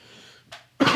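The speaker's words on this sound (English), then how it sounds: "Excuse my cough." A single harsh cough from a streamer, short and close, preceded by a softer brief throat sound.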